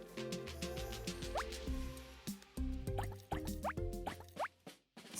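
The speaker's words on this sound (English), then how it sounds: "add 4 or 5 drops of food coloring to the oil" Drops of food coloring falling into oil make a series of small, close plinks and drips with a gurgling liquid quality, unevenly spaced across the stretch and fairly soft.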